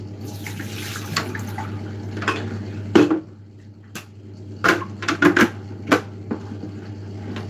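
Water running from a household tap at a sink after laundry, a steady continuous flow under intermittent clinks and knocks, fairly close and moderately loud.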